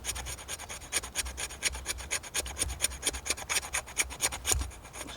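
A knife blade scrapes birch bark or fatwood tinder outdoors in winter, making quick, even, rasping strokes in a steady rhythm. The sound is close and clear, with no talking.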